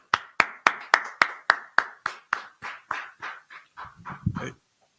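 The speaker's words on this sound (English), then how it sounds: "Clap it up." Group hand clapping at a gathering of a religious brotherhood class in Durham, North Carolina, with about fifteen loud, evenly spaced claps that slowly fade and slow down, then a brief low rumble at the end.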